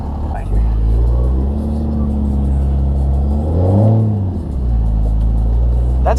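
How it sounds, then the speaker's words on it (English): A large, boat-like car drifts through deep snow during a 2024 snowstorm, its engine revving up and down steadily at close range, with a voice talking over it. "That's called drifting to your advantage."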